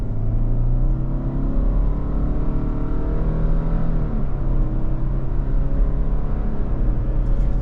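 A 2023 Subaru Outback Onyx Edition pulls away after an emergency stop, its engine drone rising smoothly in pitch as it accelerates, with a steady low rumble and road noise heard up close from inside the car.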